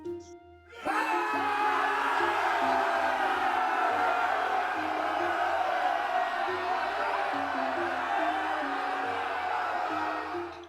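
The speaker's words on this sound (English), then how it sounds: "A white flag appears, and the Saxons cheer." Saxons cheer in a stage play, a loud, sustained crowd roar that holds steady and close for about ten seconds with no clear pauses.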